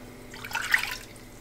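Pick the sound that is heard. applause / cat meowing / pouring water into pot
pouring water into pot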